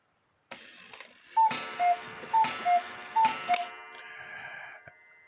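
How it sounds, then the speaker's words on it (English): Spring-driven Hubert Herr shelf cuckoo clock striking, with a faint ticking start followed by three paired cuckoo calls in a steady rhythm, close and clear, then a fading whir of the mechanism. "spring-driven clock"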